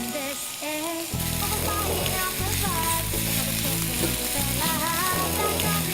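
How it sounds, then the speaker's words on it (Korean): Onion and carrot stir-frying in oil for a pomegranate red-vinegar yangjangpi dish: continuous close sizzling that swells after a second, with occasional stirring, under steady background music. "양파를 볶다가 당근도 같이 넣고 볶아줄 거예요."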